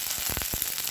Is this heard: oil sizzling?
yes